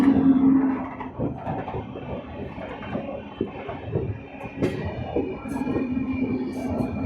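The Tata Muri Express passes nearby, a continuous rumbling rattle of wagons and wheels over rails with occasional clanks and faint squeals, steady and loud throughout.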